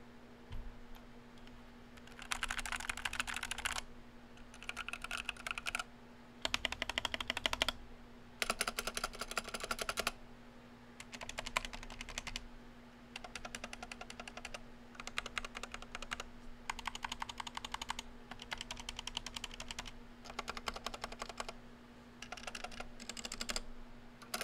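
Typing on an XVX MK61 60% mechanical keyboard with yellow switches, a steady patter of fairly soft clicks in bursts separated by short pauses, close up with a faint steady hum beneath.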